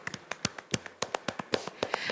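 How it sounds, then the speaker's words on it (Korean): Characters in a Korean stage adaptation of Chekhov's comedy "The Sneeze", a minister, his wife and Ivan's wife, clap enthusiastically after a play: about a dozen sharp, fairly close handclaps in a quick, slightly uneven rhythm, with no talk. "장관과 부인 그리고 이반의 부인도 연극이 좋았는지 물개 박수를 치고 있네요."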